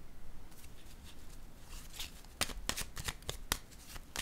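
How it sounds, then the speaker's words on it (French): A tarot card is laid down on another card during a reading, making soft papery slaps and rustles close by. A few sharper taps are clustered toward the end over a quiet background hiss, and no one speaks. "Je vais déposer une carte sur celle-ci."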